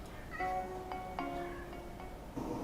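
A male cat meows a few times nearby, drawn-out tonal cries with brief gaps, fairly quiet in an indoor room.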